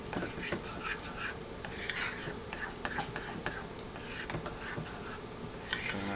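A spoon stirs homemade biscuit dough with flour in a bowl, heard as a close, continuous soft scraping and swishing with small irregular clicks, with faint voices in the background.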